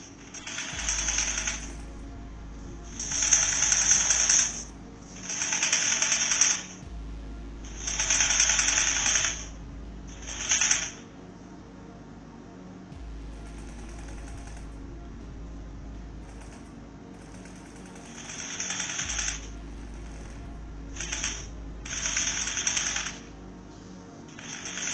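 A sewing machine stitches synthetic hair into bundles in bursts of quick mechanical rattling, several runs of a few seconds each separated by pauses, with a steady low motor hum running underneath.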